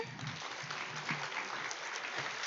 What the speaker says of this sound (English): let's give another round of applause for our speaker.